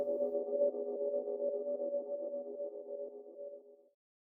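Dark, muffled synth tone from a Poison preset with halftime, tremolo volume pulsing and EQ, holding a steady low-mid chord for about four seconds before cutting off, alone with no talk.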